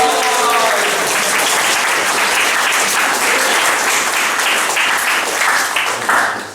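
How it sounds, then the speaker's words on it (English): A student freshers' comedy gig crowd applauds a first-time stand-up comedian with loud, continuous clapping that lasts several seconds and tails off at the end. "can we have a big round of applause, please, for Thomas?"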